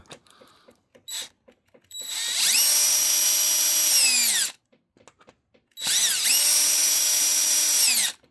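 A power drill whirs in two sustained bursts a few seconds apart, spinning screws out of a Mini Kraton RC car chassis, with small clicks and handling noises between runs.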